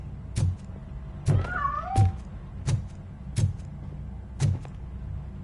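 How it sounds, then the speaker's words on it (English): A cat in the video game RoboCop: Rogue City lets out a couple of short meows among regular heavy footstep thuds, which repeat about every second at close range. "That cat must be hiding inside."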